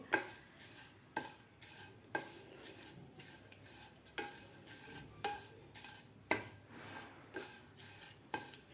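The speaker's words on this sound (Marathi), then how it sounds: "मिडियम गॅसवर आपल्याला दोन मिनिट ही शेवाई भाजून घ्यायची आहे" Vermicelli dry-roasting in a pan over a medium gas flame, with a spoon scraping and stirring in a steady rhythm, sharp utensil knocks against the pan roughly every second, and a soft crackle underneath.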